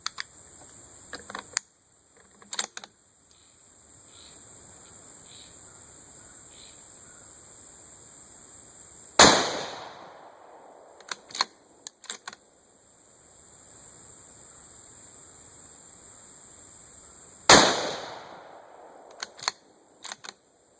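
A Ruger American Ranch Rifle fires factory ball ammunition outdoors: two loud, sharp shots about eight seconds apart, with bolt-action clicks between them and insects chirping quietly in the background.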